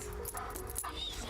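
A four-year-old German Shepherd and Belgian Malinois cross police dog whimpers briefly at close range, with a quiet, steady background around it.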